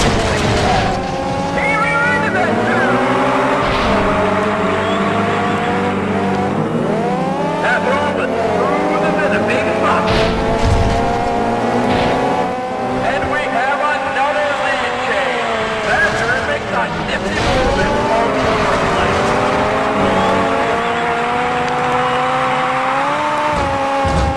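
Engine roar from cars in the video game Test Drive Eve of Destruction, loud and continuous with revving pitch sweeps and tire skids throughout, heard alongside talk.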